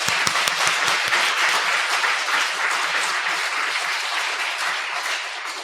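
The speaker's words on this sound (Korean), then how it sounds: "우리 정태선 목사님을 통하여 이 북악교회의 깃발을 허락하신 하나님께 영광의 박수 올려드리겠습니다" Church congregation applause during a Sunday service, opening with several loud, distinct claps close by before merging into a dense, sustained ovation that fades slightly toward the end.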